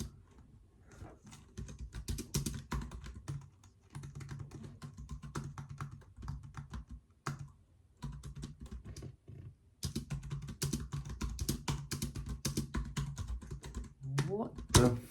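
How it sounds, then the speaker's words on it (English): Typing on a computer keyboard, a steady run of close, clicky keystrokes going on for most of the stretch, with brief pauses in between and a louder burst near the end. "I need to type again."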